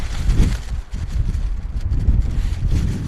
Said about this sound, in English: Whoa, man, those gusts are just crazy at the moment.